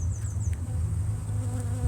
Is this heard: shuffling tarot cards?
no